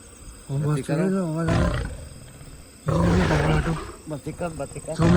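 A lion roars at night beside a machine in the wild, deep drawn-out calls in two or three bursts, fairly loud and close, with voices around them.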